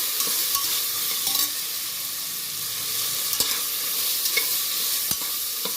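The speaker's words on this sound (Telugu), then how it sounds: "ఇప్పుడు ఇది ఆలుగడ్డ కూడా వేగుతుంది కదా" Potatoes frying in a pan with biryani masala powder while making pudina rice, a steady close hiss of frying with a few scattered stirring scrapes and clicks.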